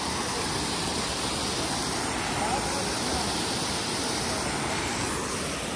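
A waterfall pours down with a dense, steady broadband roar, constant and loud from start to finish.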